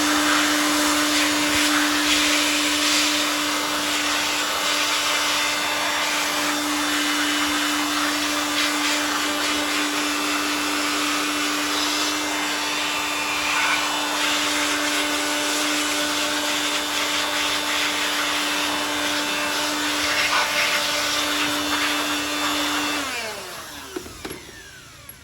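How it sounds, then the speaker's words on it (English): A hair dryer blows steadily at close range, drying a refurbished brake caliper from a 2004 Toyota Matrix, a constant loud whooshing hum that winds down and cuts off near the end. "Okay, so now this is blow drying."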